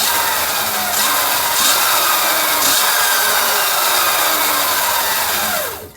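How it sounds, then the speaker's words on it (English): A Sur Ron Light Bee electric motorbike on its stand is given throttle, producing a loud, steady high-pitched motor whine that holds for several seconds, then winds down abruptly at the end. "Okay, give it a little throttle."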